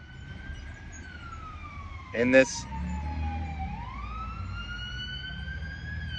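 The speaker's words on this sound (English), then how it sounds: "when sirens come, this is very important, very important. So alert. Alert, alert. It's the police." A police siren wails outside, its rising and falling tone sweeping steadily throughout, with a brief burst of talk partway through.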